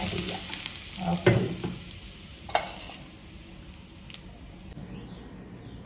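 Roasted tempering is tipped into a coconut chutney and stirred, giving a close sizzle with a few sharp scraping clicks of the spoon against the pan before it fades to a quiet hiss.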